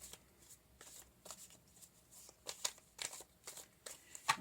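A deck of tarot cards is shuffled near at hand in repeated quick riffling bursts, soft and papery, separated by short pauses.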